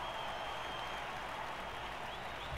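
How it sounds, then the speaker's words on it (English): A stadium crowd in the Blood Bowl 3 video game cheers and applauds as a steady dense roar lasting the whole moment. "Okay, cheering fans."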